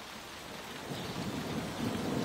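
Steady heavy rain pours down with deep thunder rumbling underneath, a dense continuous wash of noise with no voices, loud and close throughout.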